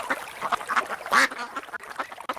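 Several pet birds squawk and chatter indoors in quick, irregular bursts, close and fairly loud, with harsh nasal calls overlapping one another.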